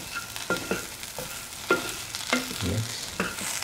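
A spoonful of Kashmiri chilli powder goes into a pan for an okra and taro root stew. It gives a faint, soft sizzle broken by a few short scraping stirs and taps, with no voices.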